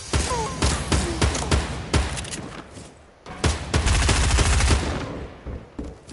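Gunfire in a fast-paced shooter game: rapid bursts of sharp shots crackle close and loud, with a denser rattling volley in the middle and scattered single shots toward the end.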